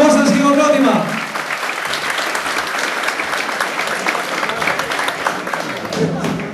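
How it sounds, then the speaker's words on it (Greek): An audience at a sports event applauds warmly in a sustained, dense burst of clapping that follows a brief spoken announcement, loud and continuous to the end. "Ο θερμός σας χειροκρότημα."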